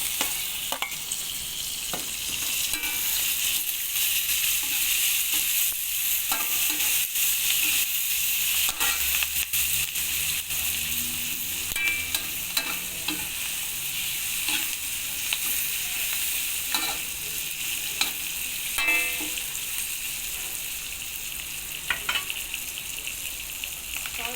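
Curry leaves and tomatoes frying in a pan for a biryani with kurma curry, a continuous hissing sizzle broken by repeated scraping stirs, close and steady with no voices.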